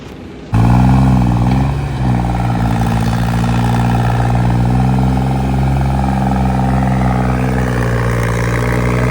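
A tractor engine starts up abruptly and then runs steadily and loudly up close, a deep throbbing drone that holds nearly even throughout, during soil-carrying service at a gurdwara.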